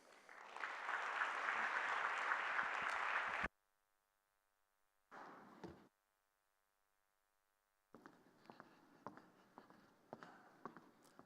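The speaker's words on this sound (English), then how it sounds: "I think we can give this man a huge round of applause." An audience at an upstream oil and gas conference in Southern Africa gives a burst of dense, loud clapping lasting a few seconds, followed by silence, then a short flurry and some scattered claps.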